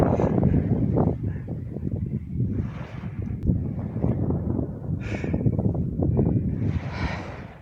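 Strong gusting wind at sea near an uninhabited island, buffeting the microphone in heavy low rumbles that surge and ease, with a few brighter hissing gusts breaking through.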